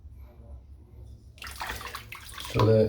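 Hot tap water runs steadily into a basin during a wet shave with brush and pre-shave oil, a broad rushing wash that swells louder toward the end, with no talk over it.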